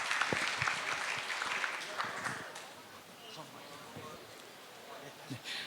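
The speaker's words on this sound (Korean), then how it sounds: "큰 박수 부탁드리겠습니다." Audience applause in a large lecture hall at a symposium, fairly faint and scattered, fading out over several seconds with light background noise.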